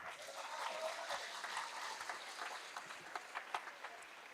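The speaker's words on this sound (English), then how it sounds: "Let's give all the seniors a warm applause" Crowd in a school gym applauding senior players at a high school volleyball game, a steady wash of clapping that thins toward the end with a few louder individual claps, faint and distant.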